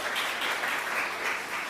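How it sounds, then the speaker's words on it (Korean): A church congregation at a Sunday service claps to welcome the people beside them, a brief, even burst of many hands at moderate distance with no talking over it. "우리 옆에 있는 분들 박수로 환영하겠습니다."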